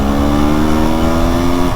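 A 400cc two-stroke motorcycle engine revs hard at high RPM, a loud, steady, buzzing drone with a sustained strained pitch held close throughout.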